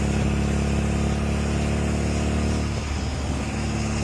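A kit car drives along Virginia back roads, its engine droning loud and steady from inside the cabin, with a slight drop in pitch near the end and no voices.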